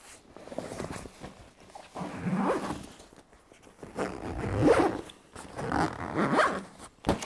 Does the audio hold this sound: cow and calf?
no